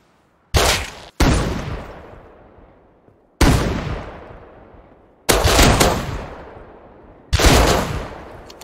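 Loud, close single gunshots in Counter-Strike, five sharp reports spaced a second or two apart, each followed by a decaying echo, with no talking.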